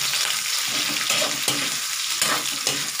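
Pork frying in a pan for Bicol Express, a steady close sizzle with occasional stirring scrapes and clinks, heard alone without talk.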